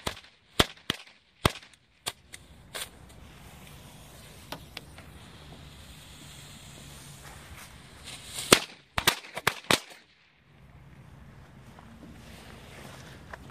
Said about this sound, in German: So, jetzt haben wir hier Böller, weißt du?